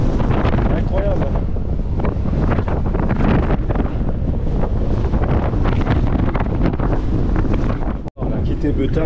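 Heavy wind buffeting a microphone on an uphill ride into a headwind near Beutin by the Canche river, a constant loud roar and rumble that fills the whole clip, with a brief dropout near the end.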